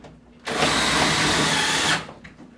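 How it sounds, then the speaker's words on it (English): A power nut driver with a 1/4-inch bit runs a #8 by 3/4-inch hex tech screw into a wall while mounting a whiteboard bracket, one steady, loud motor whir of about one and a half seconds that then stops. "this is a 1/4-inch nut driver, and I'm using a number 8 by 3/4 of an inch hex tech screw"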